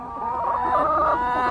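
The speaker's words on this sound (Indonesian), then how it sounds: "Bilang ayam makan nasi" A chicken clucking while eating rice, a short run of close, steady clucks heard alone.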